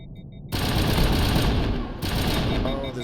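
Sustained automatic fire from an Avenger assault rifle in the Mass Effect game, a dense loud burst after a half-second of quiet, then continuing with a brief dip mid-way.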